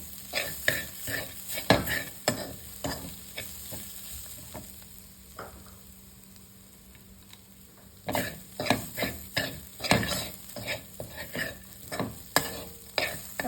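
Bitter gourd with crushed roasted peanuts stir-fried dry over medium heat, giving a steady sizzle under repeated scraping stirs that stop for a few seconds of quieter frying, then resume as brisk, close clatter.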